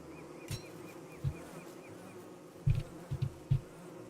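Bees around a beehive in Don't Starve Together, a clear wavering buzz that hovers close throughout, punctuated by several soft low thuds.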